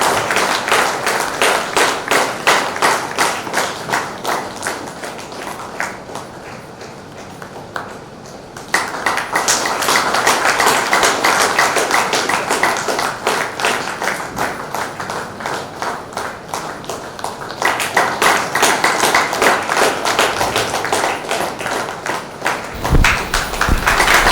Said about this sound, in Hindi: जोरदार तालियां बजती रखनी चाहिए